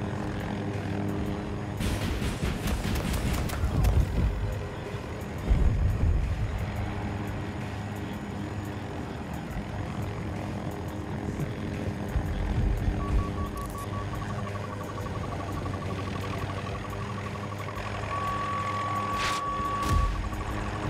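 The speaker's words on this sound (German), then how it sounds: "Ein Kampfhelikopter startet jetzt, kommt übers Flugfeld." Attack helicopter lifting off and crossing an airfield in Battlefield 2042, a steady rotor and engine roar running throughout alongside game-battle noise and scattered bangs, with no talk.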